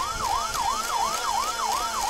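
A rapid, wavering electronic siren from a toy fire truck, rising and falling in a quick steady cycle, close and continuous.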